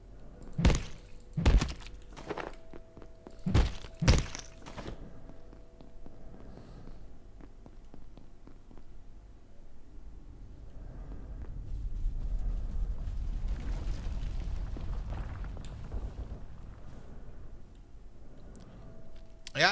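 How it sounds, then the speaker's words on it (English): Gunfire in the video game Abiotic Factor: a handful of sharp, loud bangs go off in quick pairs at the start, then give way to a low, rumbling ambient drone. "I can hear a lot of gunfire out there."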